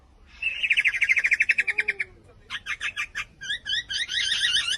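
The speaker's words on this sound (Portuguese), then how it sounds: "Não, é apenas a ave lira." An Australian lyrebird sends out a run of varied calls. A rapid trilling burst gives way to sharp, repeated electronic-like chirps and warbling phrases, crisp and close against a quiet background.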